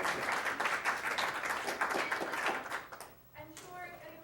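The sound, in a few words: audience applause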